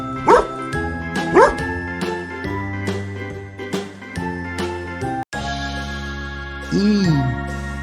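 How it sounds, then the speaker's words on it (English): A dog's barks in a cartoonish jingle: two quick yips near the start, then a whimpering rising bark near the end, all set over a loud, steady musical backing. "Nice dog."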